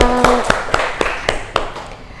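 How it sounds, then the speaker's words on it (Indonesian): Steady rhythmic hand clapping of applause in a class session, about eight sharp claps at an even pace, fairly close with a quiet room in the background. "beri tepuk tangan untuk Mbak Ima"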